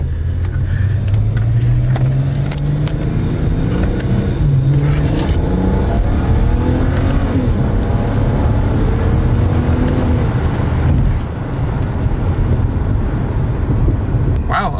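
A BMW 135i in sport mode, shifted with paddle shifters, pulls hard from inside the car, the engine note rising steadily through the revs, loud and close, with a short dip near the end and occasional voices over the engine.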